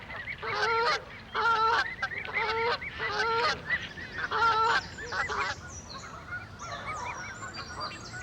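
Canada geese in a London park honk repeatedly in loud bursts of several calls, close by, with quieter background noise between them.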